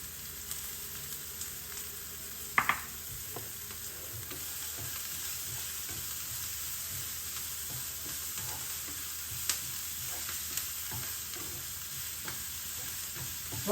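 Beans, carrot, capsicum and curry leaves with a pinch of asafoetida and salt sauté in a pan with a steady soft sizzle, broken by occasional stirring clinks and scrapes, close and fairly quiet.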